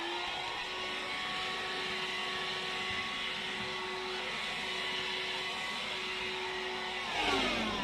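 A bagless vacuum cleaner runs inside a caravan with a steady, even whine close by, continuing without a break before a brief shift in pitch at the end.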